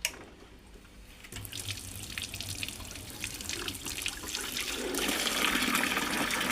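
A small aquarium water pump is switched on at its highest setting; after a quiet moment, water starts gushing and splashing, swelling into a louder steady rush near the end, with no one speaking.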